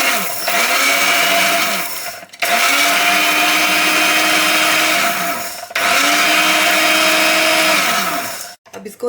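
Electric grinder whirring as it grinds roasted cumin and carom seeds, running in three loud sustained bursts with short pauses between, the motor pitch settling after each start and the seeds rattling inside.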